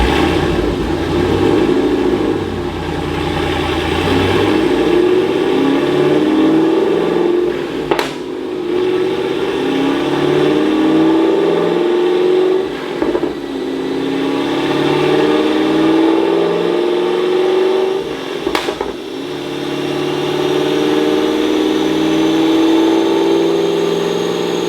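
A full bolt-on LSA V8 running on an E85 blend drones loudly and steadily in a shop, with a couple of sharp shifts or blips in pitch over a long sustained run.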